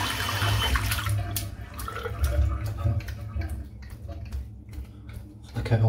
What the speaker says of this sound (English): and then I just swish it a little bit on the bowl.